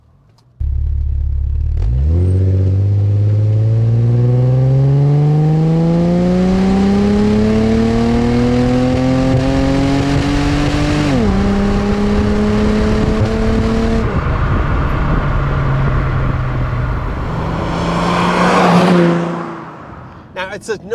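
A smooth, refined car engine, paired with a Borg-Warner three-speed automatic, is revved under throttle, rising steadily in pitch, dipping briefly, climbing again, then settling back to idle; loud and close, with no talking.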